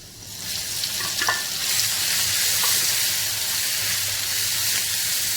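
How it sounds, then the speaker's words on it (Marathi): A coarse paste of garlic, green chili, ginger and coriander fries in hot oil for a Vidarbha-style green pigeon pea amti, giving a loud, steady sizzle with a few stirring scrapes and no talk. "वाटणाला 1-2 मिनटं छान होऊ देणार, तेल सुटेपर्यंत"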